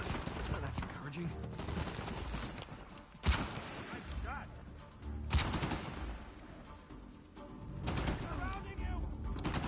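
Enemy gunfire in Uncharted 4: bursts of rifle shots crack out in clusters amid busy combat noise, with sharp loud reports standing out against a rumbling background.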